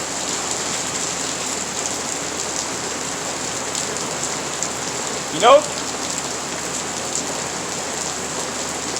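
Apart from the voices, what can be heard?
rain falling outdoors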